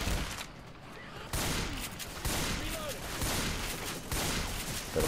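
Shotgun fire in Left 4 Dead 2, several loud blasts coming in bursts at irregular intervals over a continuous game din, with someone talking in between.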